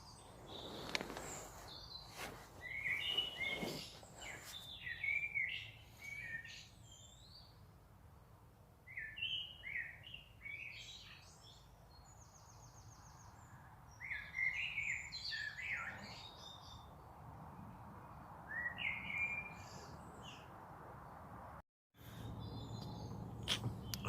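A small bird sings from a tree above a campsite at dawn, with bright chirping phrases repeated in short bursts over a quiet outdoor hush and faint background hum.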